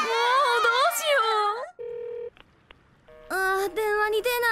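Cartoon telephone ringing on an unanswered call in a Japanese children's animation about a little bus: electronic ring tones and dialing beeps in short bursts, set between bright, animated character voices talking before and after.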